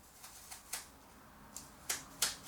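A Clever Cutter scissor-style blade slicing into a Golden Delicious apple from the side, giving a series of crisp, close snips and crunches spaced unevenly and growing sharper toward the end.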